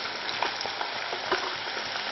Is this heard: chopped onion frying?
yes